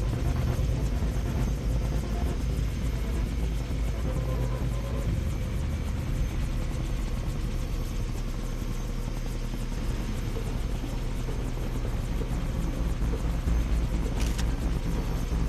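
A helicopter in Far Cry 3 drones loudly and steadily with a dense rotor rumble and whine that fills the whole stretch, close and unbroken, with no speech.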